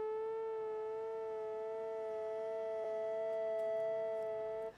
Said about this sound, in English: They'll change the tuning of a synth with a sine wave